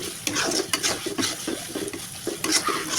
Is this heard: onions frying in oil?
yes